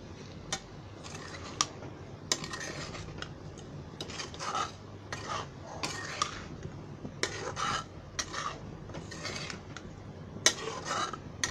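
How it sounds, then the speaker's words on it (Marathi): Sabudana khichdi with potato and green chilli being stirred in a pan on the stove, a steady run of scraping and clinking spoon-against-metal strokes at close range, with no voices. "हे पहिलं हलवून घ्यायचं"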